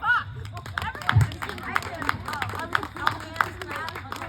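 A small audience claps in a scattered, uneven burst at a roast show, with voices and chatter mixed in over the applause.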